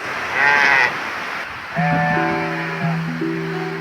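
Sheep bleat close by in several overlapping calls, one wavering cry followed by a cluster of shorter bleats from more than one animal, near a boat yard in West Africa.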